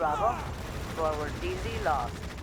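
Bombardment and gunfire in the real-time strategy game Tom Clancy's EndWar during an online one-on-one match: a steady rumble of shots and blasts runs throughout, with a voice talking over it.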